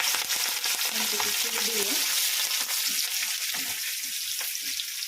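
Cumin, green chilies and curry leaves hit hot oil for poha chivda, a loud, close, continuous sizzle and crackle with stirring scrapes, and a voice speaks briefly over it.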